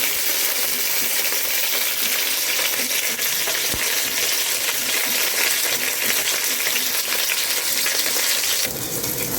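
Onions sauté in a pan for chicken biryani, a dense, bright sizzle filling the clip loud and close, with a single metallic clink of a stirring spoon against the pan.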